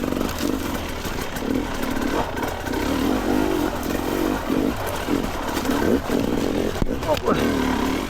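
A dirt bike engine revs and putters unevenly on a trail through a trash-strewn area as the rider shifts into second gear, with steady mid-pitched engine drone and clattering, close and under a rider's voice.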